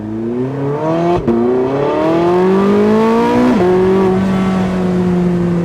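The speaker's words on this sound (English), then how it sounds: "let's give it a little bit of throttle here again" A Porsche 918 Spyder's engine revs hard under throttle, loud and close, its pitch climbing steadily in two rising pulls with a brief break for a shift between them.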